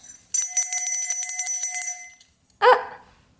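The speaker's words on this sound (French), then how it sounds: "C'est la cloche du Père Noël, mon amour?" A small Christmas bell jingles in a rapid steady shake for about two seconds, close and bright. After a short pause comes one brief louder sound.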